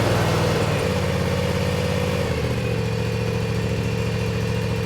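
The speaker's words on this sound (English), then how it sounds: "As soon as it starts up, I'm going to push the choke in." Small gas engine of a Cub Cadet Ultima ZT1 50 zero-turn mower running steadily after a choked start, a loud, close, continuous idle with a slight shift in pitch partway through and no talking.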